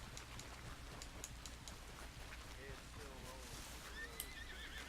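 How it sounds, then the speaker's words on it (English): A horse in Red Dead Redemption II whinnies with rising and falling cries near the end, over faint hoof clatter and a steady low background hum, fairly quiet overall. "Just stay still, you fucking horse."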